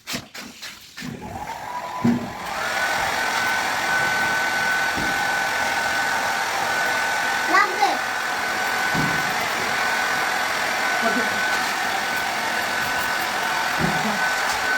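A hair dryer blows on a girl's shampooed hair, a steady loud whirring drone that starts after a few seconds of handling noise and runs on with small bumps and shifts.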